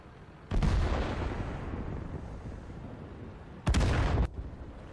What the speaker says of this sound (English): Sorry if the explosions are too loud.